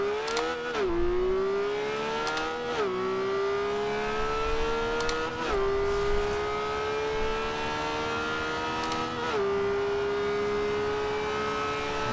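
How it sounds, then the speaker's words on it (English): The V12 engine of a 2013 Lamborghini Veneno in the Forza Horizon 2 video game revs hard on an airstrip, pitch climbing steadily with several brief dips at gear shifts, loud and close with no talk. "let's rev the hell out of it and let's go"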